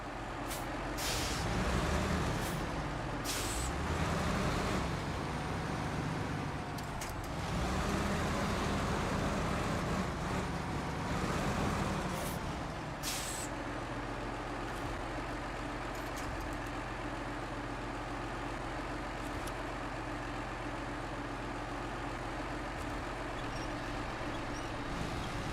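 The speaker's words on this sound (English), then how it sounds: "No, I gotta be in low gear the whole time. This truck is not built for this job." A truck in the video game SnowRunner grinds along in low gear, a steady, heavy engine drone with a few sharp hissing bursts early on, then an even, continuous labouring hum, with no talking.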